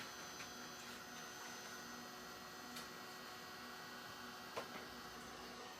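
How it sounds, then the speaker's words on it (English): A heat embossing tool blows steadily, a constant faint airy whir with a light electrical hum that runs unbroken, with a couple of small taps and no talk. "I should put my heat tool on"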